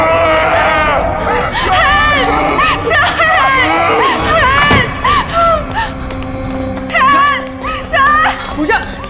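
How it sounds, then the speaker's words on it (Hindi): In a TV serial crime scene, a woman screams loudly and close with wavering, pitch-sliding wails, amid overlapping voices and commotion. "चीख क्यों रही हो?"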